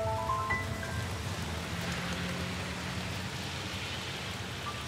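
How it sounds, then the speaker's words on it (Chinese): Steady rain pours down outdoors, a dense continuous hiss of drops hitting surfaces that holds at an even, fairly loud level throughout with no talk. "您看这天气，说下雨就下雨。"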